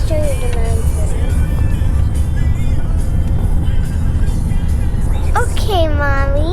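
Steady low road rumble fills the cabin of a moving car on a trip toward a mountain, with children's and adults' voices chattering over the drone.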